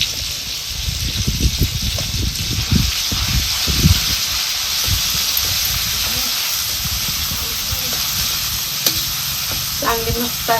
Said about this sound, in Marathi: आता ही कुटलेली चटणी आपल्याला चांगली अशी हे तेलात भाजून घ्यायची